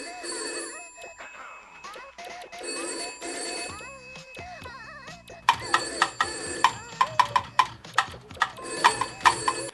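A telephone rings in repeated bright bursts that grow louder and more insistent toward the end, layered over tonal, music-like background sounds with no voices.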